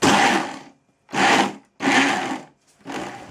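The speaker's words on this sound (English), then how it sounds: "If you don't have an industrial strength blender, you'll probably need to do this in 2 or 3 stages, batches." A blender whirs through tomato and beetroot in four loud pulses, each roughly half a second long and separated by brief silences.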